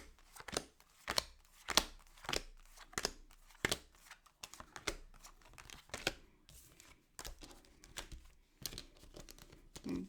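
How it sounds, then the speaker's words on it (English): Tarot cards are shuffled in a steady run of soft riffling, slapping bursts, close and fairly quiet, with no voice over them. "Let me get a good shuffle."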